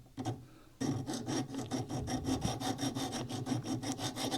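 A hand file rasps burrs off a steel Ruger Mini 14 rifle part, a quick run of regular back-and-forth strokes after a short pause, close and fairly quiet, with no voices.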